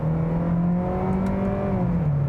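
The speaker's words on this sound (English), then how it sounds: "The engine also has a rather buzzy sound. It's a 2-liter engine, so it's a smaller engine." 2020 Hyundai Sonata Hybrid with a 2-liter direct-injection Atkinson engine giving a steady buzzy drone with a strong tonal hum and faint harmonics, slightly dropping in pitch near the end, heard from inside the car with no talking.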